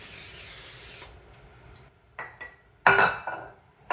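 Cooking spray hisses onto a casserole dish in one long burst, then short spritzes and a louder final spray follow in a quiet kitchen, with faint clinks in between.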